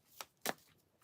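Two quick riffling bursts of oracle cards being shuffled, a short one followed by a longer, louder one, close up in a quiet room.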